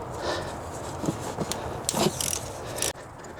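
A ratchet fitted with a 10mm deep socket loosening a Lexus ignition coil bolt, giving a close, steady run of rapid mechanical clicking and scraping over a few seconds before stopping abruptly.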